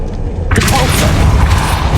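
A Depulso spell is cast in the video game Hogwarts Legacy, a sudden loud boom with a roaring, rumbling burst that sustains to the end.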